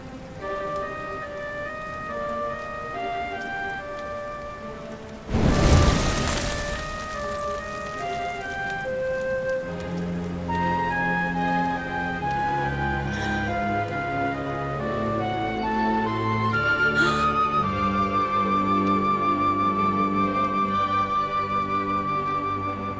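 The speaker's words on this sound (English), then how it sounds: "Looks like the rain's dying down." Steady rain pours in Dragon Quest XI, a continuous wash of patter that swells into a louder burst partway through, set beneath a soft melodic music score with no voices.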